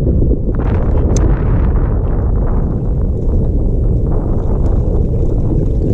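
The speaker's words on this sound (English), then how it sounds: "the wind's blowing in on this" Strong wind roars and buffets steadily against a microphone on a fishing boat on West Point Lake during a bass tournament, a loud, unbroken low rumble with no speech.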